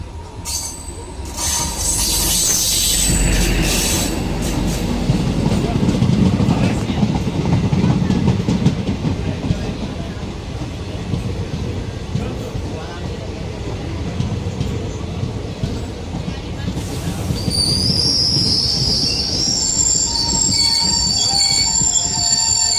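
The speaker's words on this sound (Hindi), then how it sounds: "finally Gondia Nainpur DEMU special से हमारी क्रॉसिंग होने जा रही है" A Gondia–Nainpur DEMU special rolling past on the adjacent track during a crossing, loud continuous rumble with metallic wheel squeal and clatter from close by, persisting throughout.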